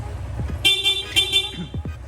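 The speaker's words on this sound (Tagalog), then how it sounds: "Sir, busina naman, stock horn." A Yamaha Sniper 155 motorcycle's stock horn honks twice in short, bright toots over a low engine idle, sounding close and fairly loud.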